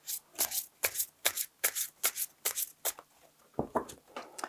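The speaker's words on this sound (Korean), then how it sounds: "그러면 지금부터 카드 셔플을 시작하겠습니다" Tarot cards are shuffled by hand in a steady series of soft, papery riffles and slaps, about two per second, close and quiet, then a brief pause and a final flurry of card sounds.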